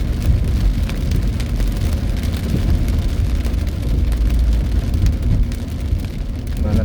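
Heavy morning rain drums steadily on a car during a drive, a dense low rumble with patter on top, constant and close without talk.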